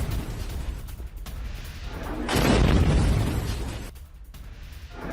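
Bombing on the outskirts of Beirut: a deep, rumbling blast swells in the middle and slowly fades against steady low background noise, with no voices.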